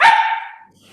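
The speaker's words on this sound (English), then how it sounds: "this is my dog." A single dog bark, loud and close, with a sharp onset that trails off quickly into quiet, no talking over it.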